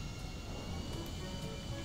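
An airplane engine in GTA V Online, flying near Mount Chiliad, gives a faint, steady drone with a broad, even hiss that does not change through the moment.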